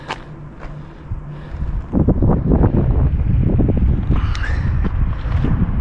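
Wind whistles and buffets around an abandoned mountain fortress high above the sea, a steady roar close to the microphone that grows stronger and rougher partway through.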